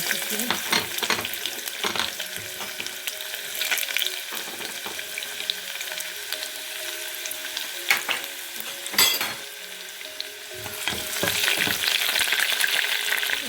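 Garlic sizzling in hot oil in a kadai, a steady bright crackle with occasional stirring scrapes and brief clinks, close and continuous throughout.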